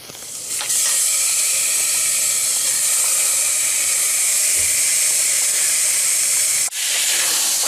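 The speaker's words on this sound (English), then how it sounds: "after adding the mutton pieces, fry on high heat for just 5 minutes" Mutton pieces frying on high heat in a pan for a curry, with tomatoes added, give a loud, steady broadband sizzle that holds almost unbroken for several seconds, dipping briefly once near the end.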